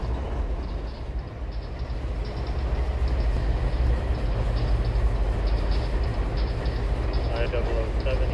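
An intermodal freight train rolls past in the Trainz railroad simulator, set in coal fields, giving a steady, loud rumble with wheel noise that holds throughout, unbroken and without talk.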